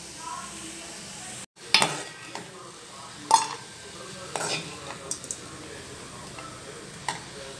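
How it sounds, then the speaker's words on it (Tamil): Cooked beans poriyal being scooped from a pan into a serving bowl: a few sharp clinks and scrapes of a spoon against metal at scattered moments, with a faint sizzle and quiet kitchen background between them. "இதை சர்விங் பவுலுக்கு மாற்றிக்கலாம்."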